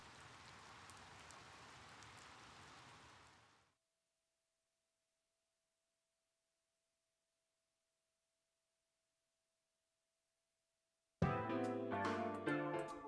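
Steady rain hiss from the video game Persona 4 runs for about four seconds, then cuts to near silence before music begins.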